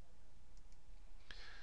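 A single sharp computer mouse click sounds close up near the end of a quiet stretch, preceded by a couple of faint ticks.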